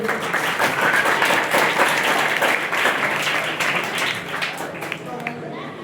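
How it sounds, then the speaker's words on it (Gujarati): An audience at a high school book and compass distribution event breaks into sustained applause, dense clapping from many hands that tapers slightly near the end, with voices talking underneath. "આપણે બધા આ સુંદર ક્ષણને તાળીઓના ગડગડાટથી વધાવીએ"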